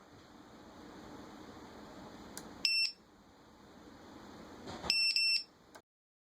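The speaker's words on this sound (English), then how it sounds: "When the external power or receiver signal, PWM, is lost, the missing alarm will ring." Missing alarm on a Dronekeeper mini2 drone beeper ringing in two short bursts of shrill electronic beeps, the second slightly longer, over a faint hiss before cutting to silence.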